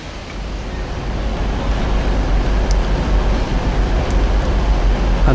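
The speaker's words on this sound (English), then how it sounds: "Class 185, arrives into Lancaster as it's still raining" A First TransPennine Express Class 185 diesel unit pulls into Lancaster station in the rain, a loud, steady low rumble that builds slightly as it nears, with faint brief clanks over the wash of rain.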